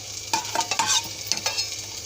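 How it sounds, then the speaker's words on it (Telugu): Cashew nuts fry in a pan for chakkera pongal prasadam, a close sizzle broken by a quick series of spoon scrapes and stirring knocks, with no one speaking. "జీడిపప్పు వేయించుకుందామండి"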